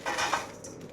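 A knife cutting through broccoli florets close by, giving a second of dense, crisp crunching and scraping with a few sharper snaps, with no voices.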